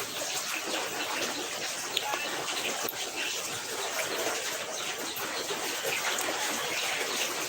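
Floodwater at a flooded house on a rainy day makes a steady, broad rushing and trickling wash that goes on without a break.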